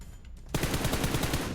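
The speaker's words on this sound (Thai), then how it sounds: "นี่ไงเสียงปืนเหมือนจะบวกกันอยู่" Rapid automatic gunfire from PUBG Mobile breaks out suddenly after a brief quieter moment, a loud, even stream of shots repeating quickly until the end.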